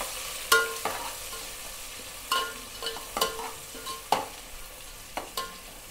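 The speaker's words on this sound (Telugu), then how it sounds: "ఇదైతే మంచిగా వేగాలి ఎర్ర ఫ్రై కావాలి ఉల్లిగడ్డలు" Thinly sliced onions being stirred as they fry in a pan, with a steady sizzle under repeated sharp scrapes and clinks of the spoon against the pan at an uneven rhythm.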